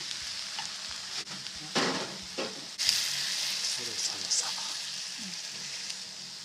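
Steady sizzling and frying of summer-vegetable yakisoba noodles in a hot pan, with intermittent scraping and stirring clatter, close and continuous.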